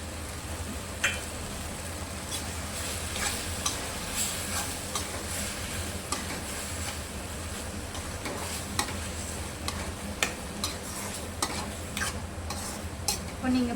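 Thick tomato thokku cooks in a pan while a spoon stirs it nonstop, with close scraping and clicking strokes over a bubbling sizzle throughout.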